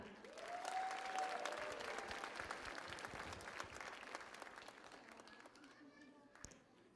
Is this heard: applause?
yes